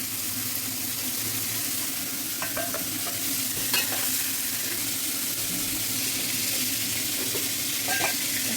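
Prawns frying and sizzling in hot oil in a pan, a steady close crackle with occasional stirring clinks and scrapes, no voices.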